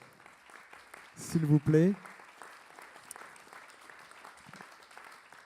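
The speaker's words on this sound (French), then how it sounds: "Vous pouvez l'accueillir et l'applaudir" At a science conference session on scientific misinformation, a seated audience gives a steady round of clapping to welcome a climatologist to the stage. A voice briefly speaks over the applause.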